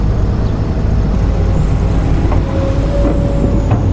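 A truck with air brakes at a Bekasi Timur construction project, near an excavator, gets ready to reverse. A loud, steady engine rumble runs throughout, with a thin air-brake hiss and a faint whine rising near the middle.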